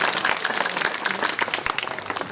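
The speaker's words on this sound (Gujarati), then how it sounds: "જોરદાર તાળી ફટાવી દીધો." Audience at a live Gujarati folk performance of Krishna and the gopis breaks into a short burst of loud, dense clapping that carries steadily throughout.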